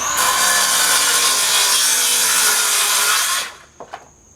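A saw cuts a Brazilian Copep hardwood board to length with a loud continuous grinding rasp, then stops abruptly, followed by a couple of sharp knocks and a faint ringing tail.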